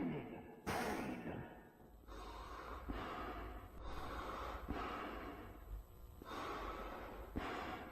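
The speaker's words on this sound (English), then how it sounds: "You can hear him breathing hard in the mask." Heavy, rasping breaths of the Walten Files character Afton inside a mask, a series of loud snorting inhales and gasps repeating every second or so, close and alone.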